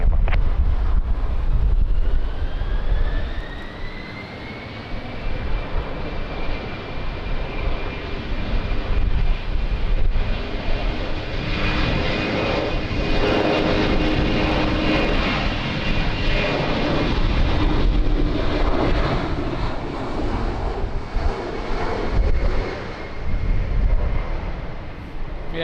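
A fixed-wing aircraft takes off at Lisbon Airport in strong wind, its engine roar loud and sustained with a rising whine, mixed with heavy wind buffeting on the microphone and no speech.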